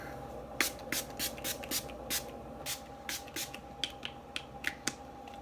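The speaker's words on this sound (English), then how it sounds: "Setting spray by e.l.f." Short bursts of e.l.f. makeup setting spray misted from a pump bottle, about a dozen quick spritzes in an irregular rhythm, close and fairly quiet with no voices.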